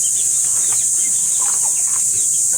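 Chickens in a backyard coop where gamefowl are kept, soft scattered clucks and calls at mid distance over a steady high background hiss, with no talking.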